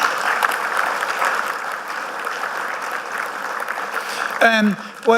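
Steady applause from a crowd at a football club season launch fills the room, a continuous wash of many hands clapping, with a voice speaking briefly near the end.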